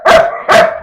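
Two sharp barks from a dog at a pigeon breeding loft, loud and close, evenly spaced about half a second apart with nothing else around them.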